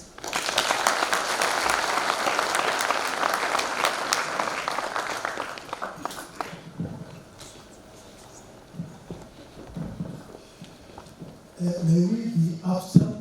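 Audience clapping continuously for chief guests at the closing ceremony of an induction program, dense and loud for about six seconds, then fading to scattered claps and voices before a short renewed burst.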